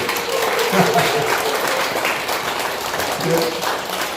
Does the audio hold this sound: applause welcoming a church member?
yes